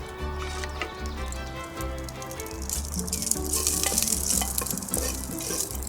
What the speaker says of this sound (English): I'll let our lamb fat render just a little bit, and then I can start browning our meat.